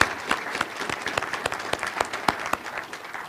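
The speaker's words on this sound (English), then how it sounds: "if we could give a round of applause to the people that came down and sat at the panel" An audience applauds a panel at a hydrogen informational breakfast, dense steady clapping from many hands across the room with no voices on top.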